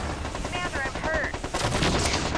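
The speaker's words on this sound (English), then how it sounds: "this fixed artillery just needs to stop" Fixed artillery fires in the MechCommander 2 strategy game: loud, rapid bursts of booming gunfire packed together in a dense, continuous barrage.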